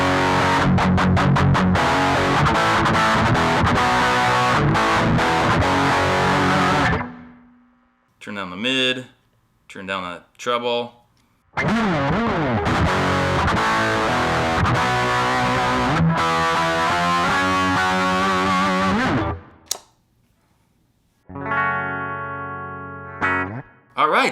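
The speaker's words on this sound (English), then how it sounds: "that's the Rocket Distortion" An electric guitar played through a Rocket Distortion pedal rings out in loud, saturated bursts of chords and riffs, broken by short pauses in which someone speaks.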